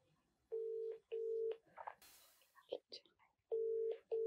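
A phone call placed on a mobile: loud electronic ringback tones repeat in long even pulses, separated by brief rustling and soft whispered sounds in between.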